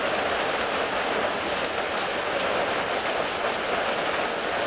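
Steady downpour in a Texas flood, rain drumming on a porch in a thick, constant wash of noise that stays loud and near throughout, without speech.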